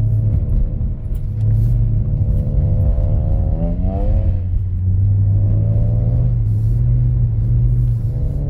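A BMW engine revs and drones steadily while the car drifts on a winter surface, rising and falling in pitch with throttle input, a loud, close, continuous rumble with no voices.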